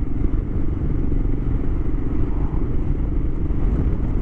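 Steady, continuous engine and road rumble from a car driving along a coastal road between Cape Jervis and Adelaide, South Australia, heard close and unbroken with no talk, a constant low drone throughout.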